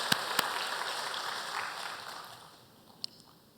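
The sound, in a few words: church congregation applauding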